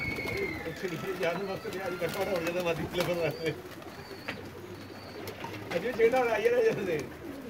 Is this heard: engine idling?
no